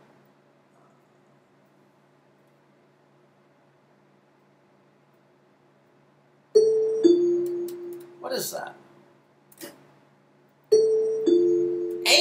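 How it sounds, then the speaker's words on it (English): A classic two-tone ding-dong doorbell chime rings twice, loud and close, after a long near-silent hum, with a brief spoken question between the chimes. "it's a doorbell"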